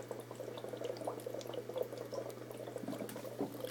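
Aerated water bubbling steadily in a brine shrimp hatchery setup with eggs tumbling inside, a continuous soft burbling and fizzing with a low mains hum underneath.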